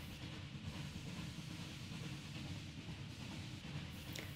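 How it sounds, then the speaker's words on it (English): A train rolls along the tracks behind its locomotive, a low, steady rumble with a faint rhythmic clatter. It is quiet and distant, with no voices. "Many kinds of trains move along the tracks. Clickety-clack, they are pulled by their powerful locomotives."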